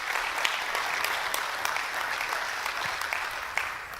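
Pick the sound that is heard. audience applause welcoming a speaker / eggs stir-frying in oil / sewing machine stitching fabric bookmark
audience applause welcoming a speaker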